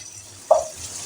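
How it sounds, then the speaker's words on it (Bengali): Roughly chopped onions dropped into hot oil and frying over low to medium heat in a pan, a sudden close sizzle bursting up then settling into a soft steady crackle. "এগুলো একটু লো টু মিডিয়াম আঁচে আমি ভেজে নিচ্ছি"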